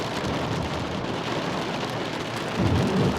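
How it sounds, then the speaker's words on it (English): Steady heavy rain falls after a hailstorm, a dense continuous hiss of drops on surfaces, with a low rumble swelling toward the end. "Just turned to rain now, I think."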